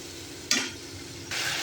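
Spiced masala with chopped tomato and turmeric frying in a pan for a rui fish curry: a soft, steady sizzle with two brief louder bursts as it is stirred, close and quiet, no voices.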